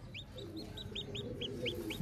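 An Aseel hen clucks in a steady run of short, repeated calls over a low farmyard rumble, with no voices.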